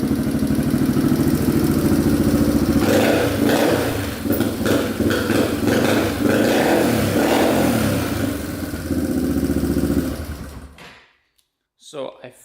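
A Yamaha TTR230 dirt bike engine runs loudly and steadily, with rapid mechanical ticking from clacking valves needing adjustment and some uneven revving under a voice, then cuts off near the end.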